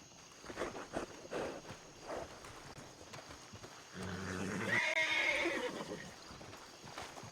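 A horse in a Western setting in The Legend of Laramie clops and shuffles close by, then gives a loud whinny partway through.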